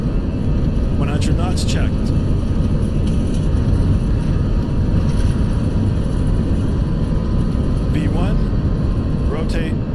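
Airbus A319 jet engines spooling at takeoff thrust on a runway in X-Plane 12, a steady loud broadband roar throughout, with a pilot speaking briefly over it.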